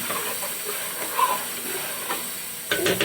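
Ravioli being stirred in a pan of homemade cheese sauce, giving a steady wet sizzle and hiss with faint scraping and bubbling, close and continuous with brief louder moments near the end.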